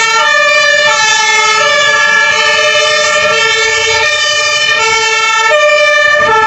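A toy fire engine's electronic siren plays loud and close. It is a steady, buzzy wailing tone with strong harmonics that holds throughout, with no speech over it.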